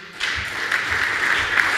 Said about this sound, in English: Big applause, everybody.